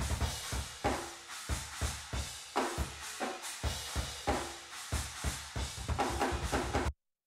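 A drum kit captured through room microphones without trigger samples, with a steady groove of kick and snare hits ringing into an open, ambient space.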